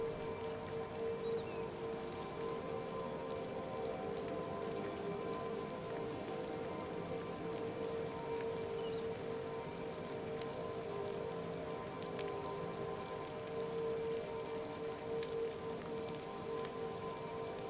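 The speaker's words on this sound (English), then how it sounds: "I'm actually standing in the rain!" Steady rain falling in the Dreamlight Valley video game, a continuous even patter with a soft constant hum underneath, unbroken and fairly quiet, with no talking.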